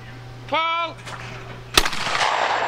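At an outdoor skeet shoot, a voice shouts a call and a single sharp shotgun blast booms soon after, close and loud, followed by a brief fading echo.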